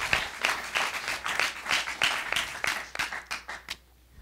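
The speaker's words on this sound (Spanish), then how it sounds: "Give a strong applause." A church congregation applauding during a sermon, steady rhythmic clapping from many hands that fades out toward the end.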